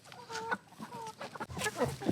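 A Rhode Island Red rooster gives a few short clucks close by, a quick burst of two or three calls followed by scratchy farmyard noise.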